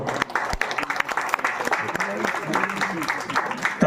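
Steady applause from a theatre audience at a drama competition, many hands clapping in a dense patter, with a voice speaking over it.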